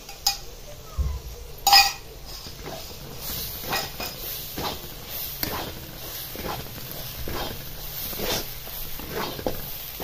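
A spoon stirs coconut masala paste in a cooking pot for a village-style drumstick curry, with repeated soft metallic scrapes and clinks in an uneven rhythm, close by, and a couple of sharper knocks early on.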